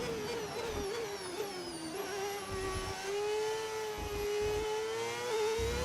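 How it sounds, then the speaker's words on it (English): An F1 car engine in the F1 25 racing game drones steadily at high revs, with a strong held tone that shifts slightly in pitch as the car runs, loud and continuous throughout with no talk. "This engine doesn't sound like an F1 engine."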